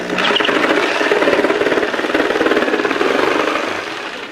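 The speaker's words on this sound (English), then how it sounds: "now we've got the scroll saw set in" A scroll saw cuts a drain hole through an insulated plastic cooler, a steady loud buzzing chatter with rapid reciprocating strokes, close and continuous before easing off at the end.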